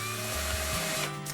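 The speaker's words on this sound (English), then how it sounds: "With the new Mastercraft Maximum Quick Flip Drill Driver, you can drill, countersink, and screw without changing tools." A Mastercraft Quick Flip drill driver runs steadily while drilling, a loud continuous motor whine with the pitch shifting slightly under load.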